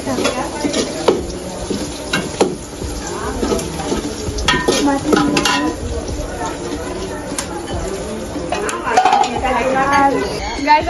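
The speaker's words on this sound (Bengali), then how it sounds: "আজকে আমাদের বাড়িতে বিরিয়ানি আনন্দ হচ্ছে, বিরিয়ানি রান্না করতে দিয়ে দেখা।" Biryani cooking in a pot at home, with continuous stirring, scraping and frying sizzle, close up, while voices talk over it throughout.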